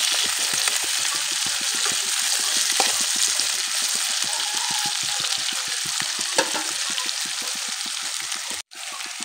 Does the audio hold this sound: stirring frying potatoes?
yes